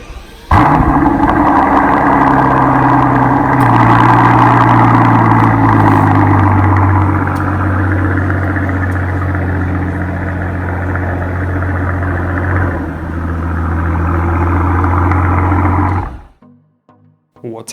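The V12 of a 2019 Mercedes-AMG S65 Cabriolet starts up close and loud, then settles into a deep, rumbling idle from engine and exhaust that holds for about fifteen seconds before cutting off.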